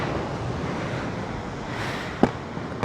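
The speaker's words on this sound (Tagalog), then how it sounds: "Kikita nyo naman siguro yung lalakas ng alon no?" Strong ocean waves wash onto a beach at Pagudpud, a continuous broad roar of surf with gusty wind buffeting, steady and fairly loud throughout.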